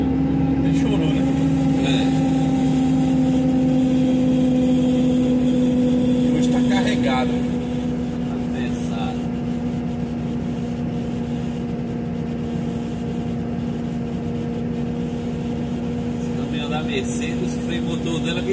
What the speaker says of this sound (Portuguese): Descendo, o freio motor dela, quem segura é ela.